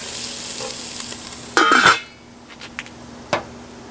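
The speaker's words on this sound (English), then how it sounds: "I just shredded this ginger and garlic, 2-inch ginger and 5 cloves of garlic. And let's cook this for 2 minutes." Shredded ginger and garlic (two inches of ginger, five cloves) fry in a pan, giving a steady close sizzle broken by a few sharp scraping stirs of a utensil.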